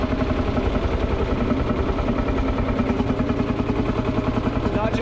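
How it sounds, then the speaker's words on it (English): Vintage tractor engine running at the Kirriemuir Show in Scotland, a loud, steady low rhythmic chugging close by with a continuous mechanical throb throughout. "I absolutely love this tractor. The sound of it is just so perfect."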